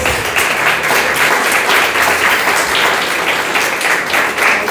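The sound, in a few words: applause for the King of Kings in church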